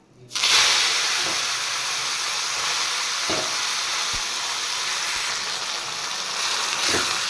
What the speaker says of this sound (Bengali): কুমড়ো পাতাগুলো হালকা ফ্রাই করে নিই